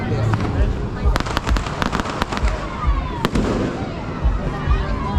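Fireworks bang and crackle repeatedly on New Year's Eve in Brazil, sharp bursts scattered irregularly over a dense crowd din, with voices talking nearby throughout.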